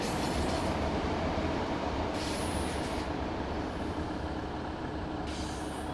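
Continuous rumble of a passenger train running in Train Sim World 6, with steady wheel and track noise, a low engine drone and brief hissing bursts, alone and fairly loud throughout.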